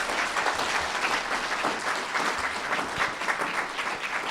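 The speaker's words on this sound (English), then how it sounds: "a special round of applause" Sustained audience applause at a ham radio youth forum, dense steady clapping from a crowd filling the room at even loudness throughout.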